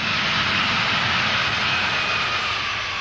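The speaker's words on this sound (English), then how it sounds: "These A-10 ground attack planes depart Saudi Arabia, their moves elaborately choreographed." A-10 ground attack jets departing an air base in Saudi Arabia during the Gulf War, a loud, steady broadband jet roar with a high whine that holds unbroken for the whole stretch, with no talk over it.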